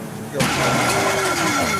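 A struggling car engine sputters and roars loudly during a truck chase in the video game GTA 5, the rough running noise beginning abruptly and mixing with overlapping voices.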